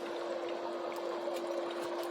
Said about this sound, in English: It'll start pushing that water out through the bottom.